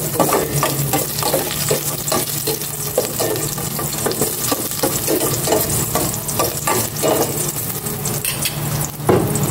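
Garlic sautéing in a hot pan, a steady, loud crackling sizzle with frequent scraping stirs and utensil clicks throughout, no voices.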